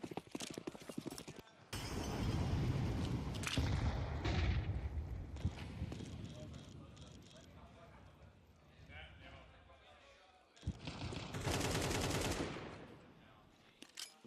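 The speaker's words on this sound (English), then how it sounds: "Just a couple of pistols here." Pistol gunfire from a Counter-Strike style shooter game comes in sharp bursts over clattering footsteps and game noise. Two loud stretches are split by a brief silence.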